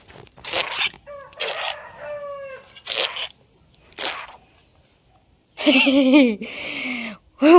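A dog barks in short separate bursts, with other calls and voices in between.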